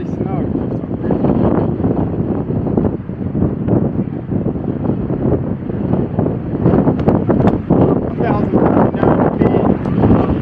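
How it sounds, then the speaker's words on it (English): Strong gusting wind of about 40 mph buffets an outdoor microphone at an airgun range, a loud continuous roar that rises and falls throughout, with someone talking briefly over it. "Got about a 40-mile-an-hour gust right now."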